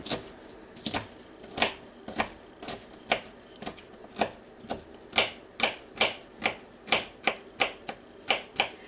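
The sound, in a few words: knife dicing food on a cutting board for sloppy joes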